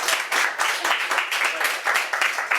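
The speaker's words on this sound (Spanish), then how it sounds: "muchas gracias y le damos un aplauso" An audience claps for a speaker at a talk-and-discussion event, the applause close and fairly loud, with a slightly uneven pulsing rhythm and no speech over it.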